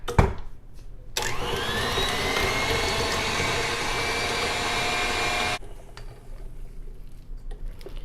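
An electric mixer whirs through pumpkin mousse ingredients with nutmeg and cinnamon, a loud steady motor whine for about four seconds with clattering before it starts and quieter bowl noises after it stops.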